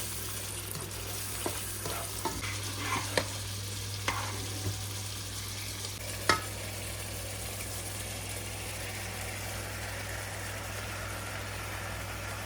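A pan sizzles and fries steadily as cream is poured over pasta, with a soft continuous crackle, occasional clinks and stirring knocks, and a low steady hum underneath throughout.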